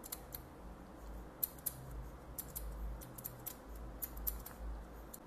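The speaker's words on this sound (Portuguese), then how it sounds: "Eu vou dar uma batida de tesoura aqui para dar uma ajeitada." Barber's scissors snip through a man's hair during a short social-style cut, a run of light, crisp metallic clicks at an uneven pace, close up with a soft room hiss behind.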